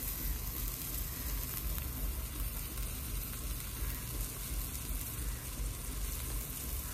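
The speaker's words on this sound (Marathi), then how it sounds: "आता तुम्ही बघू शकता चांगली उकळी आली. एकदम सगळं बुडबुड करते." Vegetable manchow soup thickened with cornflour at a strong boil in a pot, giving a dense, constant bubbling and hissing roar that holds steady and fairly loud throughout.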